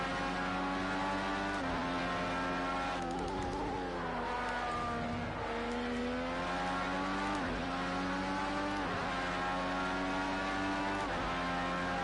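IndyCar race car engine in a racing game at Road America, a loud continuous high-pitched whine rising and falling through gear changes and throttle lifts, close and with no talk.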